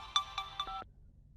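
A phone ringtone plays as a short melodic run of bright electronic notes, three quick repeated tones and a falling close, then cuts off after under a second into quiet room noise; no voices.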